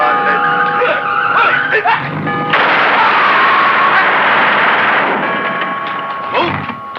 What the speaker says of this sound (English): The car's just over there.